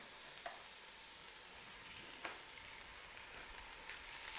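Onions, garlic and turmeric frying in a pan, a steady close sizzling hiss with a couple of faint stirring clicks and no talking.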